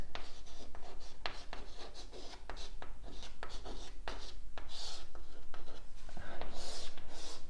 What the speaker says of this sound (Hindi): तो मैं लिखता हूं, हेडिंग लगाता हूं